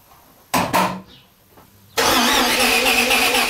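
Maserati BiTurbo engine being cranked by its starter motor: two short loud grinding cranks, a pause, then a sustained loud whirring crank that keeps going to the end, close and with no speech.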